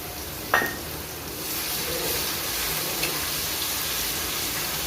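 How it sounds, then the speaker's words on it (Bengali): Onion and ginger-onion paste frying in a pan for a chicken curry, a steady loud sizzle and hiss with a brief scrape or clink early on as the paste goes in, continuing evenly without talk. "পেঁয়াজ আমি হালকা একটু ভেজে নিছি এখন দেব আদা আর পেঁয়াজ একসঙ্গে বাটা"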